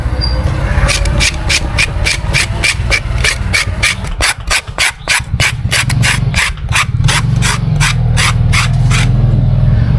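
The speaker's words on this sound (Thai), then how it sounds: "เสียงขูดด้วยนะ" An edible tree stem is scraped with about twenty loud, evenly spaced rasping strokes, close to the microphone and steady in rhythm throughout.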